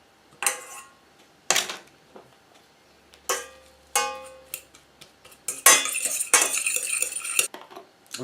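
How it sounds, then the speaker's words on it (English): A bent fork mashing potatoes in a bowl, with irregular metallic clinks and scrapes against the dish and a busier stretch of rapid scraping toward the end, close and alone. "I use a bent fork for mashing."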